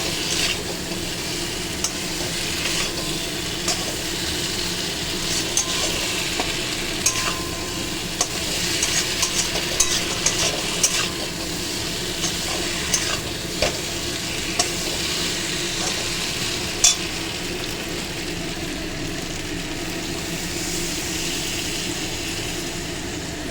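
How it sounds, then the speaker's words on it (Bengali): Potatoes for aloo dum being stirred in a pan, a steady dense frying sizzle running unbroken throughout, with faint scattered ladle scrapes and clicks close by. "আলুগুলো দিয়ে একটু নাড়াচাড়া দিয়ে এর মধ্যে জল দিয়ে একটু ঢাকা দেবো"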